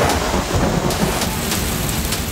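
Heavy storm rain pours loudly and steadily on surfaces while thunder rumbles underneath, in a torrential monsoon downpour over the Koh-e-Suleman mountain range near Rajanpur, Pakistan.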